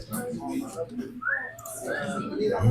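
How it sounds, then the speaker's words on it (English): A person whistles short rising and falling notes, mixed with background voices in a ninth-grade classroom. "The whistling is unnecessary and unwelcome."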